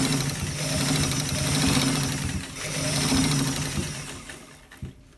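A sewing machine stitches a shirt collar in a continuous rattling whir, with its speed swelling and easing in two long surges before it slows and stops near the end.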